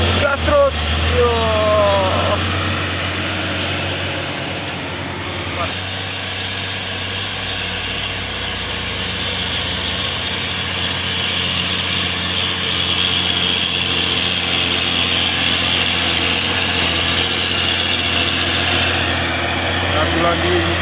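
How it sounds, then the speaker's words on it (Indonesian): A Hino truck labours up a hill at Bukit Kodok, its engine roaring loud and close in a steady, continuous drone that holds for the whole stretch. "Dan satu lagi nih, Hino."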